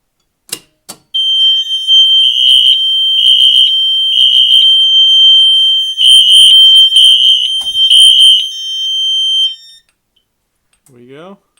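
Loud pulsing electronic tones from a Faraday Chevron fire alarm system under test, a few sharp clicks and then a series of shrill beeps in regular groups. The alarm stops abruptly, and a short bit of speech follows.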